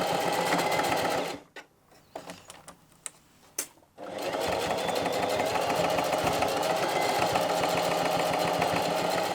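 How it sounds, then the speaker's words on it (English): A sewing machine stitches a bum bag closed, running in steady, fast mechanical chatter close by, pausing briefly for a few clicks and handling noises before the rapid stitching resumes. "I'm just gonna sew here to close the bag, basically."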